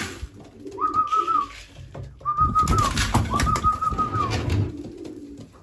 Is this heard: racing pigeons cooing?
yes